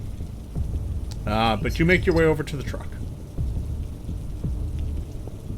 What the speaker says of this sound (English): The driving rain is still here.